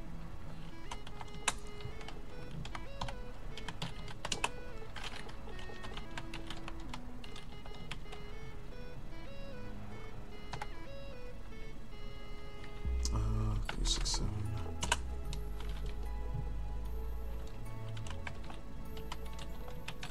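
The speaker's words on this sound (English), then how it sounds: "I'm gonna type that in here." Fingers typing a terminal command on a computer keyboard in Ubuntu, giving steady close key clicks over a continuous background hum, with a louder bump partway through.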